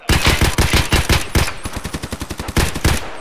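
Automatic gunfire in the video game Escape from Tarkov Arena: loud, rapid bursts of shots with brief pauses between volleys, close and alone.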